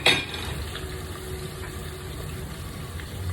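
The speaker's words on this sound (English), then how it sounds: "I'll drop in the 3/4 green chilies, then the onion." Green chilies and onion hit hot oil in a pan for mutton curry, giving a soft, steady sizzle after a brief clatter at the start, close and even throughout.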